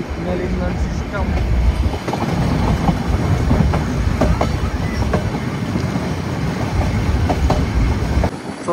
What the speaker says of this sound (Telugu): సో మన ట్రైన్ అయితే డీజిల్ ఇంజిన్తో నడుస్తుంది కాబట్టి పొగనైతే విడుదల చేస్తుంది.